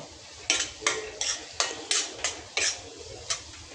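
A spoon scrapes through tomato puree and spices in a pan for Mexican rice, about eight crisp, rhythmic strokes, close and fairly loud with no talking.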